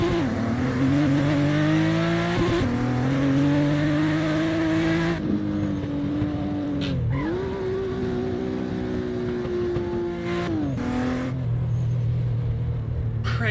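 A powerful twin-turbo race car in Assetto Corsa revs hard through the gears, its engine note climbing and dropping across several shifts, while the tires squeal as it slides; loud and close throughout.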